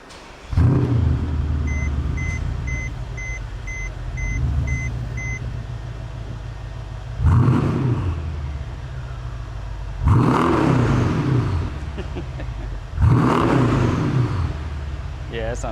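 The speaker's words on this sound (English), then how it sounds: "Mercedes has an infamous cold start, so we're going to hear this thing." A Mercedes-Benz AMG with a modified exhaust, resonator or muffler removed, cold-starts with loud low roaring bursts, four distinct surges spaced a few seconds apart. A steady series of faint electronic beeps sounds early on.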